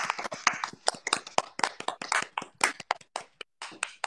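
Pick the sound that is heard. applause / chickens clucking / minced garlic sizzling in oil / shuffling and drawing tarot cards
applause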